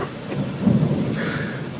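Thunder rolls through a stormy morning, a deep low rumble swelling near the middle over the steady hiss of rain, with no talking.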